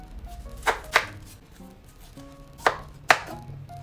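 Onion being chopped on a cutting board, four sharp knife strikes in two pairs, close and clear with no talking.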